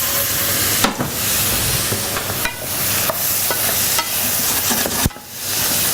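Wild mushrooms fry in butter in a pan, a steady close sizzle and hiss broken by a few brief stirring clatters, with no talking.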